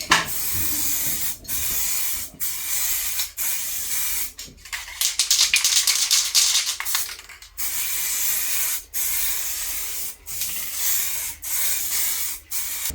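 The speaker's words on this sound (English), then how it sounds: "So when I spray next, the thicker coats, it sticks to it." An aerosol spray can mists paint onto Volvo 240 tail lights, with a series of short close hissing bursts separated by brief pauses and one longer continuous spray in the middle.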